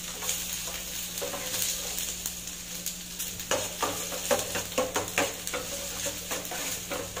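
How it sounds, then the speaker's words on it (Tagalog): Onion frying in a pan while okra is being cooked, a steady soft sizzle with intermittent stirring scrapes and clinks growing busier toward the end. "Then next, yung onion. Fry lang natin sa konti."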